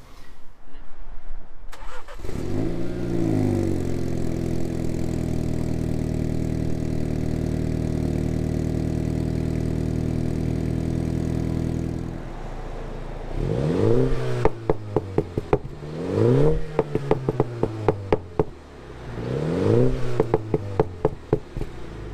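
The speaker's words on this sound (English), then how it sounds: "we'll get to hear the stock JCW exhaust without any sort of alterations" A Mini Cooper F56 JCW engine with stock exhaust cranks and starts, settles into a steady low idle, then revs sharply several times in quick bursts, close and loud.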